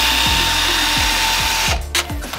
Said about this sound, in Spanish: Mira qué bien está hecho este taladro.